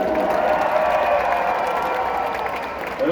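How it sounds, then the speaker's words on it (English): Crowd applause and cheering at a live medieval jousting show at the PNE, greeting riders and a white-socked Shire war horse; steady dense clapping fills the whole stretch, loud and close, with a slight swell near the end. "A nice round of applause for TJ and Dane!"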